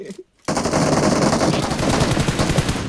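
Rapid automatic gunfire in PUBG Mobile rattles out loud and close after a brief silence, sustained bursts filling the rest of the moment.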